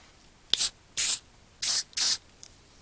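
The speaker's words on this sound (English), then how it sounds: "So I'm just going to spray a little bit onto this plate here," Spray paint blasted onto a plate in four short, sharp hissing bursts, close and loud, separated by brief pauses, with a small click at the start.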